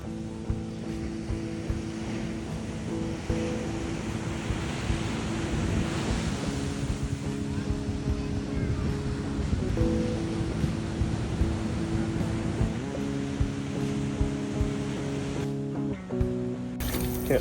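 Small surf of roughly two-foot ocean waves breaking on the shore makes a steady, loud wash of broadband noise for the whole stretch, with a low mechanical hum underneath and no talking.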